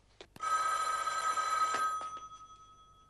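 A telephone bell rings in one long, loud, sustained metallic trill that fades out toward the end, with a few soft knocks before and during the ring.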